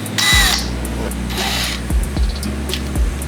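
A power drill whirs in short bursts while new belts are fitted on a Hellcat car, with a few clicks and thumps between, close and loud against a steady background hum.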